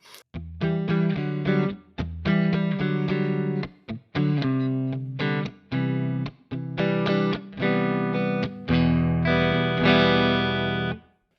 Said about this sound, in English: this is my clean pedal platform. A little bit of reverb, room reverb